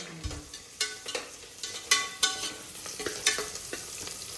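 Vegetable pulao ingredients frying in a pan, with scattered sharp clinks and scrapes of a spoon stirring over a low, steady sizzle, close and fairly quiet.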